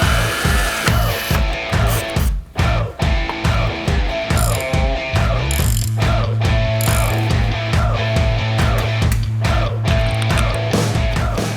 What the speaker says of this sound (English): Once the Trick Flow heads are on, they're torqued to spec with new bolts